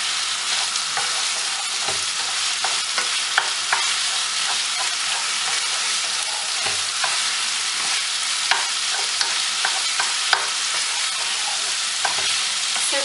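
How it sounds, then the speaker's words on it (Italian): Pieces of sausage browning in a pan: a continuous close, loud crackling sizzle with scattered pops and occasional scrapes of stirring throughout. "Quindi non ci resta che far rosolare per bene anche la nostra salsiccia finché non sarà"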